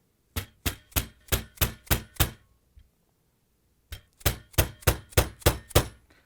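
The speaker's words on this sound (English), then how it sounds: "And I'm going to hammer it in." Sharp metallic hammer strikes in two steady runs, six blows, a short pause, then seven more, close and loud, driving a Whirlpool WP356427 washer shaft seal into place.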